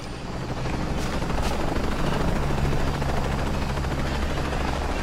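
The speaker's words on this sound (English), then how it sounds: "Wish I could take out that damn helicopter." Steady helicopter rotor drone in Shadow of the Tomb Raider throbs continuously at moderate volume, with faint battle noises and brief sharp bursts early on, no speech.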